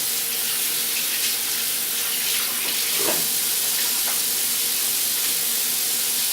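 Tap water runs steadily into a sink during handwashing in a home kitchen, a close, loud, even hiss with brief splashes and clinks as hands move under the stream.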